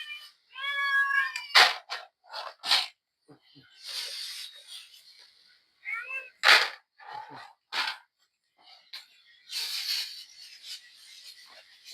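Several cats meow near the microphone while they wait for food: a few short, pitched cries come in bursts, mixed with scraping and rustling noises.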